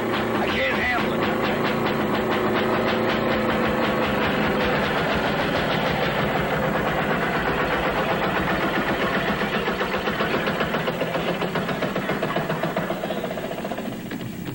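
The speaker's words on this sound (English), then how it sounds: "Trains come through the tunnel." A loud, steady rumble of a train passing through an enclosed space, with the rattle and roar continuing the whole time and fading slightly at the end.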